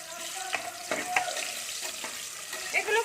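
Quartered onions go into hot oil after fried garlic while a chicken curry is being made. The result is a close, moderate sizzle with a few sharp clinks and scrapes of stirring, and nobody speaks.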